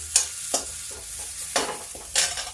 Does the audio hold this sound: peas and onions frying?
yes